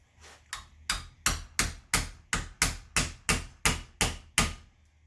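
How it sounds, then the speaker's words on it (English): Twelve sharp metal hammer blows strike a bent truck tailgate latch to straighten it, landing in a steady, fairly even rhythm, loud and close with no talking. "Use a hammer here."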